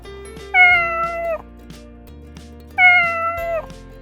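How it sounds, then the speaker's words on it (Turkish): A cartoon white kitten gives two drawn-out, close meows a couple of seconds apart, each sliding slightly in pitch, over soft background music. "Bu beyaz bir kedi ama Blissa değil."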